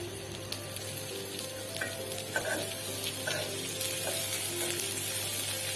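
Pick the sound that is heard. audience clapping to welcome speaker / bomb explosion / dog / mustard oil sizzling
mustard oil sizzling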